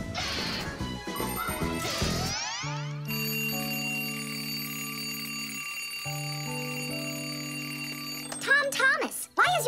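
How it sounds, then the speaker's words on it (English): A cartoon alarm clock rings in an animated scene, a sustained bright ringing tone held for several seconds amid music and effects, ending in a burst of clatter. "why is your alarm clock ringing in the middle of the night"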